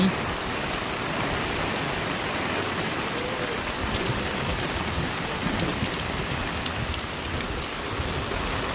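Steady rain falls over flooded ground with water all around, a dense, even hiss of drops that holds at the same level from start to end.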